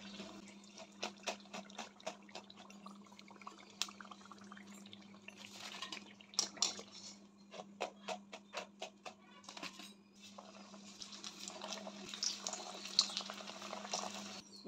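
Bottle gourd and jackfruit pakoda frying in hot oil, a faint, close crackle of popping and sizzling with irregular bursts over a low steady hum.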